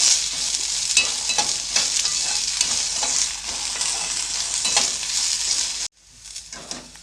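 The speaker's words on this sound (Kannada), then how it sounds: "ಬೆಂಡೆಕಾಯಿ ಲೊಳೆ ಅದು ಎಲ್ಲ ಹೋಗೋವರೆಗೂ ಒಂದು ಸ್ವಲ್ಪ ಫ್ರೈ ಮಾಡ್ಕೊಳ್ಳಿ" Sliced okra frying in a tablespoon of oil in a pan for sambar, a steady loud sizzle with scraping stirs throughout, dropping abruptly to a fainter hiss near the end.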